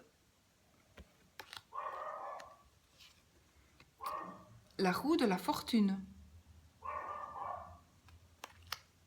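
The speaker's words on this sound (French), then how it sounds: "J'adore quand mon chien aboie que je fais une vidéo." A pet dog barks in short bursts in the room, several loud yapping volleys spaced out over the stretch while someone speaks French between and over them.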